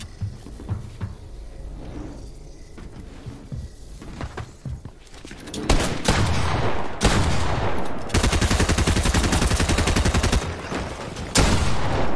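Gunfire in the Fortnite video game: scattered light taps and footsteps at first, then loud close-range automatic bursts and heavy sustained fire in the second half.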